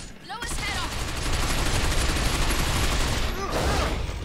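Sustained automatic gunfire aimed at a combat robot's head weak point in the video game Binary Domain, a dense, loud rattling barrage running nearly continuously for several seconds with brief voice bits at the edges.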